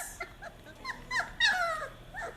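Mastiff puppy whining and fussing up close, soft high whimpers and small yips in short bursts over a quiet room, with no talking.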